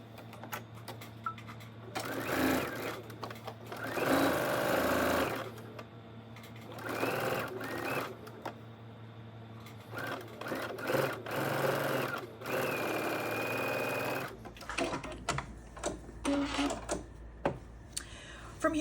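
A sewing machine stitches quilt block pieces together for a spring tulip block, running in repeated bursts of rapid mechanical chatter with short pauses between runs, close and clear, with quiet bits of talk in the gaps.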